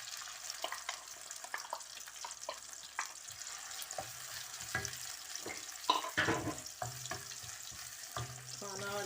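Minced meat with garlic and onion being stirred in a pan on the stove, a soft steady sizzle with scraping and clinking of the spoon, faint and close, with no talking.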